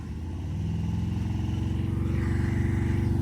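Harley-Davidson motorcycles, a 2024 Road Glide 117ci and a 2017 Street Glide 107, idling side by side before a drag race, a loud deep rapid engine throb that rises slightly and stays steady, close by.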